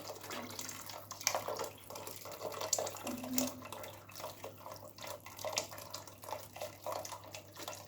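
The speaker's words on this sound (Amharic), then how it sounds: "ከዛ ውሃ አለኝ የፈላ ውሃ" Boiling water poured into a pot of soup, a close steady splashing and trickling liquid sound with some drips, moderately quiet and without talk.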